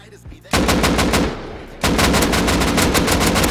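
Rapid automatic gunfire rattles loudly in a video game, one burst that eases briefly and then resumes as a sustained stream of fast shots, close and dominant with no talking.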